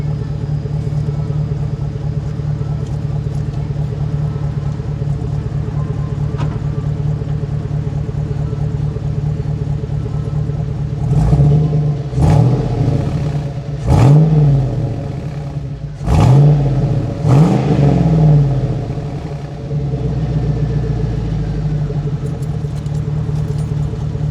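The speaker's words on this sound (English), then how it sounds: "Let me give it a couple revs, let you just see how these Flowmasters sound on this H2" A 2003 Hummer H2's 6.0L V8 idles with a deep steady burble, then revs up sharply four times through a throaty Flowmaster exhaust before settling back to idle.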